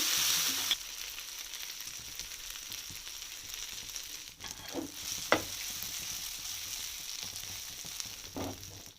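Prawns fry in a pan with tomato sauce, a steady close sizzle with a few occasional clicks and scrapes from stirring, no talking.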